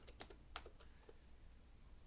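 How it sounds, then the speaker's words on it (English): Computer keyboard typing nearby, a quick burst of soft key clicks followed by a few scattered taps, faint and alone in a quiet room. "My keyboard,"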